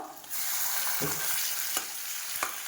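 Boiled winter cabbage stirs and fries in a hot wok with potato and salt, a steady close sizzle broken by a few sharp scrapes of the spoon against the pan.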